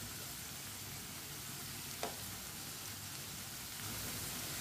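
Pakoras deep-frying in hot oil as they are turned, a steady broadband sizzle with one brief sharp tap midway and a slight swell toward the end.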